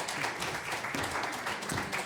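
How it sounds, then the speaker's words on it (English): Applause from the audience at a candidate forum, greeting mayoral candidates: a steady, fairly quiet wash of many hands clapping at a distance, holding an even level across the whole stretch. "let's go ahead and give a round of applause to our mayor candidates"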